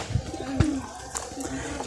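Pigeons coo at a pigeon seller's place near Diamond Harbour station, giving soft low throaty coos amid a few faint chirps, close by against light background noise.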